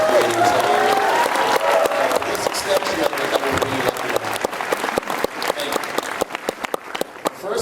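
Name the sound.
audience applause at Comic-Con panel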